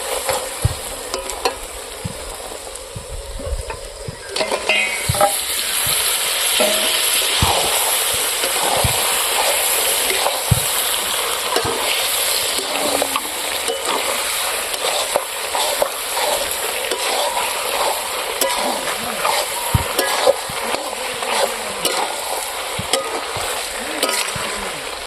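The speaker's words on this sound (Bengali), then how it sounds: "বন্ধুরা মাংসগুলো হালকা করে কষিয়ে নিলাম" Big pieces of pork fat and meat fry in spiced oil at an outdoor village-style Christmas picnic cook-up, a steady close sizzle broken by frequent scraping stirs throughout.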